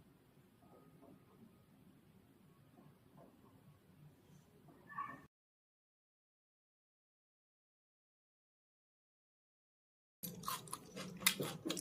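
Someone eats a roll up close, with soft, faint chewing and munching, then a stretch of total silence before louder, crisper bites and mouth sounds resume.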